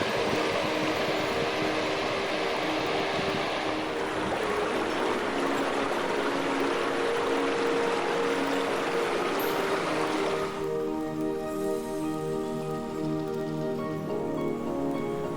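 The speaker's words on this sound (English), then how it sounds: "I'm going to fill up with water and then climb." A mountain lake's outlet stream rushes steadily and close, a dense broadband splash. Partway through, the tone shifts as water pours into a container for filling.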